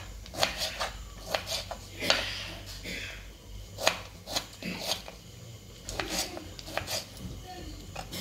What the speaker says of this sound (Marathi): बारीक टोमॅटो कापून घेऊया बघा।